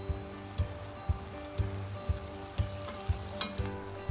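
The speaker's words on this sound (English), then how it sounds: "Simmer until the redness in the meat disappears." Beef and tofu cooking in sukiyaki broth with a low bubbling sizzle, broken by regular soft thumps about every half second and faint clicks, quiet and close with no talking.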